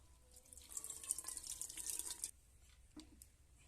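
Tap water runs into a sink for about a second and a half as lentils are rinsed, then stops, leaving a quiet room with one small splash afterward.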